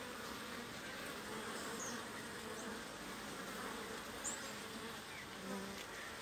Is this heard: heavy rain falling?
no